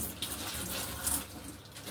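Water runs steadily from a kitchen faucet during washing up, a soft continuous hiss and splash at close range, with no talk.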